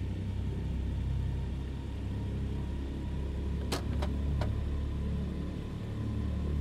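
A simulated aircraft engine powering up for taxi in Microsoft Flight Simulator at H. A. Clark Memorial Airfield, giving a continuous low droning rumble at steady loudness, broken by a few brief clicks.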